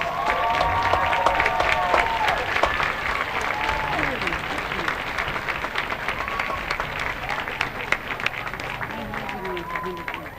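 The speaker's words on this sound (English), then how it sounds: "Let's give all of our brave heroes a round of applause" A stadium crowd at a high school football game applauds and cheers steadily, with scattered voices and babble mixed into the sustained clapping.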